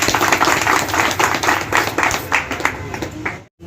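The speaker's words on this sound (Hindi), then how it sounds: "इसके लिए एक बार विशेष ताली" Crowd applause at a computer shop opening event in Bihar, dense steady clapping for several seconds that cuts off abruptly near the end.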